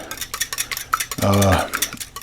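Eggs for hot and sour soup being beaten in a bowl, with quick rhythmic clinks and scrapes of utensil against the bowl, close and fairly loud, and a brief steadier burst partway through.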